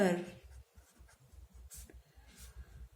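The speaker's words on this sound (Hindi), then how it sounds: "तो मैं यहां पर लिखती हूं भावों का संकलन" Chalk or marker taps and scratches on a classroom board in quick, short strokes, close and fairly quiet, and someone speaks briefly between the marks.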